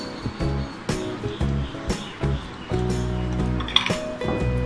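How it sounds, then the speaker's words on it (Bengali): Lentil paste for dahi bora going into a mixing bowl, with a spoon clinking against the bowl in a steady series of bright, close taps over a continuous tonal background. "প্রথমে আমি একটা মিক্সিং বোল নিলাম নিয়ে আমি ডালটা দিয়ে দিলাম"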